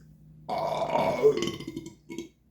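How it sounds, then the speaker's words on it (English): A loud, drawn-out burp erupts after a brief pause, followed by a shorter second belch near the end, up close with no talking. "I teach you to burp."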